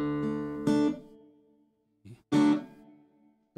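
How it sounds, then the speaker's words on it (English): Acoustic guitar plugged into a pedal board with reverb engaged, a few strummed chords that ring out and decay into a soft spacious tail, separated by brief pauses, close and moderately quiet. "So if I would engage the reverb, which gives us a little bit spacious sound, it should sound like this."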